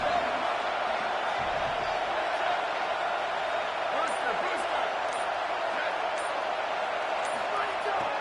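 Stadium crowd in the College Football 27 video game makes a steady, dense roar that holds an even level throughout, with no clear individual cheers rising above it.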